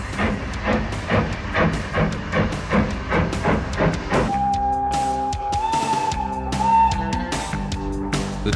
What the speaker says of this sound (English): Pulling out of the Haworth station, our train will continue to climb gently.